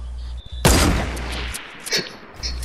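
Gunfire in a video game: a sharp burst of shots followed by a rattle of further shots, loud and close, with game sounds around it.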